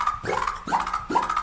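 Filtered synth bass from Serum with an LFO-driven cutoff, three rising, growling wobble notes in quick succession, each sweeping up with a bright ringing overtone.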